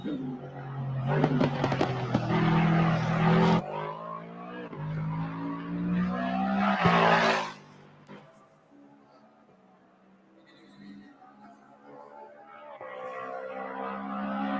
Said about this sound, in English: I'll let the car finish out the lap